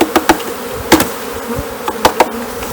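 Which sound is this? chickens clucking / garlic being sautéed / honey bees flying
honey bees flying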